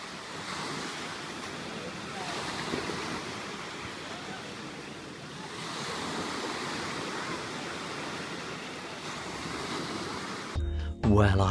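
Broad, steady roar of sea waves breaking on a shore, with wind buffeting the microphone, continuous for most of the stretch before a brief loud handling knock at the end.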